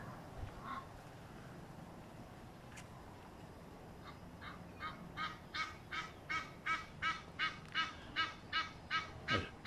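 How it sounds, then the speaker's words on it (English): Small flock of geese at a home in Africa, honking from a distance: a few scattered calls at first, then a rapid rhythmic run of loud, regular honks building toward the end as the birds take flight. "So let's try and see if we can catch these geese on flight."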